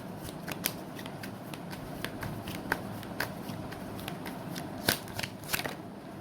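Tarot cards are shuffled in quick, crisp bursts of riffling and snapping, close and fairly loud, with irregular sharp flicks scattered throughout and no speech over them.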